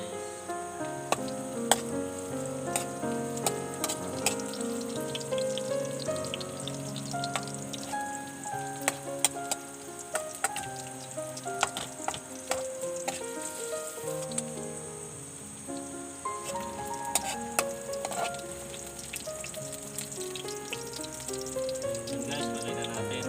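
Onions and garlic fry in a pan with a steady, close crackling sizzle and scattered sharp pops, continuing for over twenty seconds without talking.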